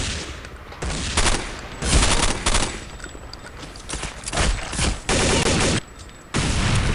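AK rifle fire in Counter-Strike Condition Zero, loud sustained automatic bursts that start and stop abruptly, several long strings of rapid shots separated by short quieter gaps, close and dominant.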